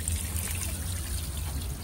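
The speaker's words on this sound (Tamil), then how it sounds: "போட்டு தண்ணி நிறைய ஊற்றி விடு." Water pours onto freshly sown seeds in a garden pot, a steady close trickle and splash running throughout the short stretch with no talking.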